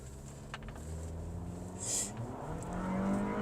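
A Toyota Camry XV70 engine pulls hard and accelerates as its eight-speed automatic gearbox shifts quickly, its steady drone climbing in pitch, heard from inside the cabin with a faint whoosh of air.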